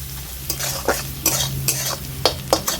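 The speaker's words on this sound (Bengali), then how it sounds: "সব কিছু ভালো করে নেড়েচড়ে নিচ্ছি" Onions with salt and turmeric being stirred in a pan, a low sizzle broken by about seven distinct scraping strokes of a spoon at a loose, steady rhythm, close and fairly loud, no speech.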